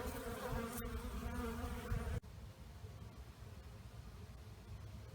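Honeybees buzz around open beehive boxes in a backyard apiary during winter setup, a dense steady hum that is loud for the first two seconds, then drops to a softer, more distant drone.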